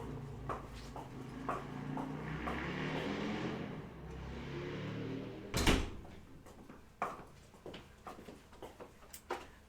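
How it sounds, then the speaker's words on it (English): A door is shut with a single loud thud partway through, set among quieter room clatter and softer knocks before and after. "I'll go shut my door."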